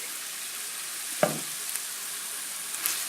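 Lean mince with smoked chilli powder and Worcestershire sauce fries in a pan for a lasagne, giving a steady close sizzle broken by one sharp scrape of a stir and a few light taps.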